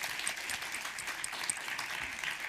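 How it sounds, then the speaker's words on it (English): An audience at an event applauds a guest, with steady, dense clapping that holds at an even level for a couple of seconds and carries no talk over it. "Give him an applause."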